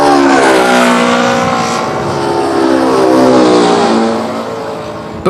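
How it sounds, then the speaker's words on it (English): A propeller airplane passes loud and close, its engine drone sweeping down in pitch as it flies by and slowly fading with the Doppler shift, alone without voices. "As the plane flies away, the sound waves stretch out and the frequency and pitch change again."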